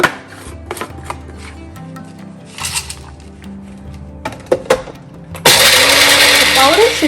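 A mixer grinder grinds a cooled, roasted spice mixture into a coarse powder for rasam. Scattered clinks and clatter come first, then a loud, steady whirring roar takes over for the last second and a half.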